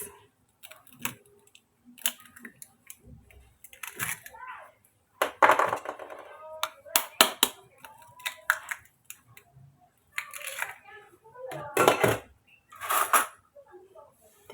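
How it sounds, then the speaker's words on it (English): Eggs cracked into a pan and stirred for a Ugandan rolex, chapati street food: short clinks, taps and scraping bursts arrive in irregular clusters, close and fairly quiet, with some talk in between. "Then I'll add in my eggs."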